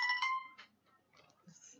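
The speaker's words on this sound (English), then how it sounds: "Sorry, y'all, that was my phone." A mobile phone ringtone plays a bright, repeating electronic tone pattern at moderate volume for about half a second, then fades into faint, scattered sounds.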